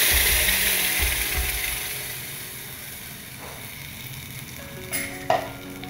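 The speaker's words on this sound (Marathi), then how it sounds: "तेल गरम झाले की आपण आता जिरे घालून घेणार आहोत" Steady crackling sizzle of seeds frying in hot oil, loud and close at first and slowly easing, with a couple of brief clinks near the end.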